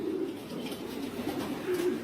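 Many young racing pigeons crowded in a messy loft keep up a soft, low cooing, several drawn-out calls rising and falling in close succession, heard alone without speech.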